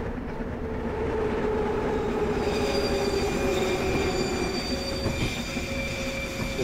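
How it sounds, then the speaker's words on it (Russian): Metro train 81.717.5P braking in Garry's Mod Metrostroi, a steady rail rumble with rising wheel squeal and high whining brake tones drawn out over several seconds, loud and close with no talk. "Так, давайте будем притормаживать, потому что уже впереди станция должна быть."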